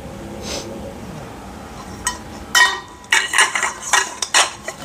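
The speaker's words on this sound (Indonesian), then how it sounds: "Bunyi khas aluminiumnya." Aluminium tarp pole sections clink and tap against each other in a run of bright, light metallic knocks, close by and growing busier toward the end.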